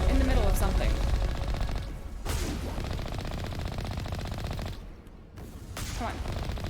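Cannon blasts from the Mako vehicle in Mass Effect, repeated bursts over dense, continuous gunfire and explosions in game combat, loud and busy throughout.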